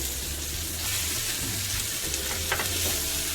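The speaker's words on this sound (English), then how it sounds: "I'm gonna be adding some onions" Onions go into a pan of hot oil for a coconut curry, giving a steady, close-up sizzle with faint stirring and a low background hum throughout.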